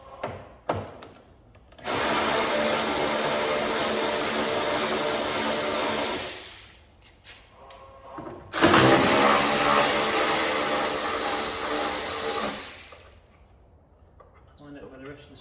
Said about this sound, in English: So let's just get this rear bumper off.